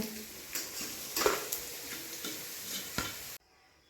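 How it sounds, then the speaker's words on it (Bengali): Thalkuni leaf fritters frying in hot oil, a close, steady sizzle broken by several sharp knocks and scrapes of a utensil against the pan, then stopping abruptly; no voices. "বন্ধুরা থালকুনি পাতার বড়া ভাজার রেসিপি রেডি হয়ে গেছে"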